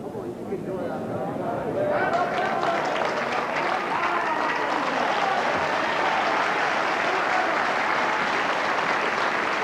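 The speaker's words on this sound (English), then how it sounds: "An acknowledgement of the applause from Robert McCulloch" A crowd of spectators breaks into sustained, loud applause at a 1983 Scottish indoor bowls championship junior singles final; the clapping swells after a couple of seconds and continues as a dense, steady wash, with a commentator speaking over it.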